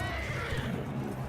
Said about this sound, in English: I just shot the horse in the face.